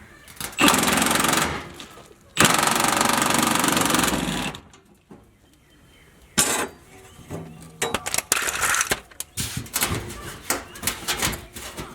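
Impact wrench working on the gas tank of a Chevy box-style car, sounding in two long loud sustained bursts, then a quieter stretch followed by a series of shorter rattling bursts near the mic.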